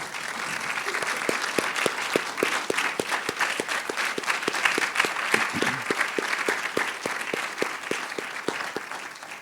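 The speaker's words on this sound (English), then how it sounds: "would you stand and let us give you a round of applause, please?" An audience at the 2020 Dietary Guidelines Advisory Committee meeting gives the support staff a steady round of applause, with dense, even clapping sustained at moderate loudness for the whole stretch and no voices over it.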